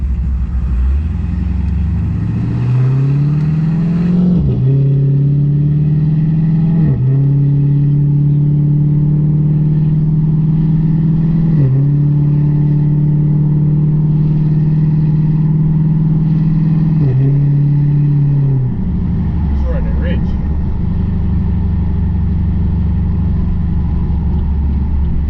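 A stage 2 cammed Pontiac G8 GT engine drones loudly and steadily while driving, with several brief dips in pitch as it shifts gears throughout the clip.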